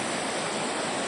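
Steady broadband roar of a waterfall at a summit trail, loud and continuous with no voices.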